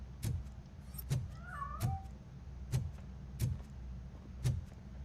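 A cat in the game RoboCop: Rogue City meows amid a string of evenly spaced sharp taps, with one brief wavering cry standing out early on, all moderately loud over a low, steady rumbling backdrop.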